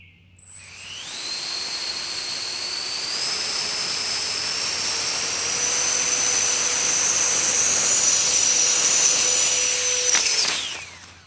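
A 3D printed EDF drone's ducted fan spools up to a loud, steady high-pitched whine, holds for about nine seconds while rising slightly, then cuts off abruptly. It is close and heard alone.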